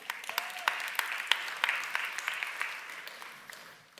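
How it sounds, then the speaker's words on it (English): Sparse, scattered clapping from a small audience at a business talk, a few distinct claps standing out over a quiet room with a faint murmur beneath. "Pity applause because one person clapped."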